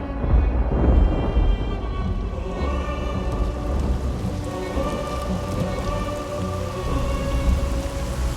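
Heavy rain with thunder, a loud, dense downpour roaring continuously while deep rumbles of thunder roll underneath, with no voices.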